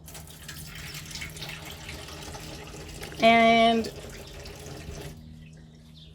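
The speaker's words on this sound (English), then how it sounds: "Paintbrush in some water." A paintbrush swishes and sloshes in a cup of water, with soft liquid rustling throughout and a short clear ringing tone midway; a voice speaks briefly.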